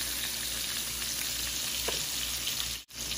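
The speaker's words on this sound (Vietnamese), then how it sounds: "Cái tỏi nó vàng mình đổ cà chua vô." Tomatoes frying with golden-browned garlic in a pan for a salmon-head hot pot, an even dense sizzle throughout that briefly cuts out near the end.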